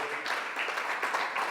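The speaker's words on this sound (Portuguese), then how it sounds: "Dá um aplauso aí então para animar o pregador." A church congregation breaks into applause for the preacher, with dense, steady clapping from many hands throughout and a faint murmur of voices underneath.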